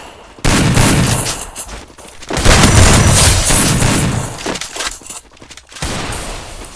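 Rapid bursts of gunfire in the video game Free Fire, loud and dense, with volleys running almost continuously and brief lulls between them.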